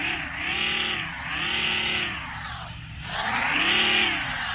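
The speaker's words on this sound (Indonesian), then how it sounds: "langsung aja kita hidupkan dulu mesinnya. Untuk suara mesinnya ini begini guys." A Mitsubishi Canter truck engine idles and revs in Bus Simulator Indonesia, a steady droning hum that swells and eases in slow waves, close and continuous with no talking over it.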